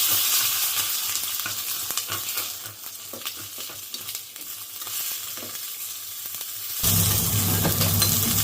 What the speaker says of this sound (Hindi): तो ये मैं मिर्चें छौंक रही हूँ।